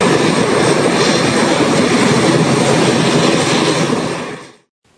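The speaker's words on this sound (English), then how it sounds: "its first flight taxied across the runway of the Robert L. Bradshaw International Airport in St. Kitts and Nevis" A Caribbean Airlines airplane taxiing across the runway at Robert L. Bradshaw International Airport in St. Kitts and Nevis, heard as a loud, steady engine roar that holds for several seconds and then cuts off abruptly.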